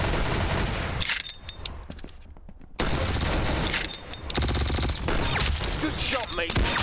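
Rapid bursts of gunfire from the Roblox shooter game Arsenal, loud and close, filling most of the stretch with a brief quieter gap in the middle.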